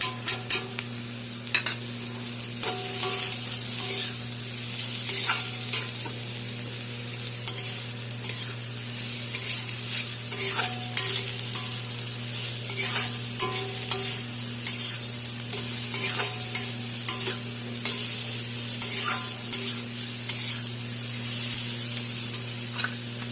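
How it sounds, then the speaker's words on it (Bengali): Bitter gourd frying with potato and onion in a pan, a constant close sizzle punctuated by repeated scraping stirs of a spatula, with a steady low hum underneath throughout. "আমার তিতা করলা আলু পেঁয়াজ ভাজা হয়ে গেছে।"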